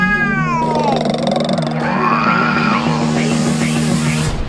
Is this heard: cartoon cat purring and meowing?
yes